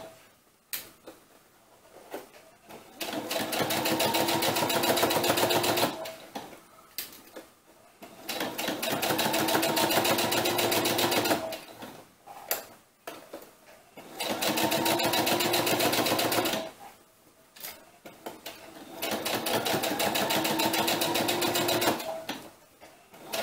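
Sewing machine stitching with a jeans needle through thick, bulky winter doll cap fabric, running in four long steady bursts with short pauses between them, loud and close.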